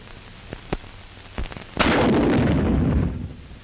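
A bazooka fires to lay communication wire from an MX301G dispenser holding 3,300 feet of wound wire: a few sharp distant thumps, then one heavy booming blast that rumbles and fades over about a second.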